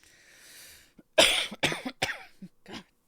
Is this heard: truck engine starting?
no